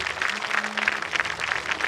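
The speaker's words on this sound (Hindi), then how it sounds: "अच्छे से ताली बजाइए।" Crowd of worshippers at a Ranchi prayer meeting clapping in a sustained, fairly even rhythm, many hands together at moderate loudness with no talking over it.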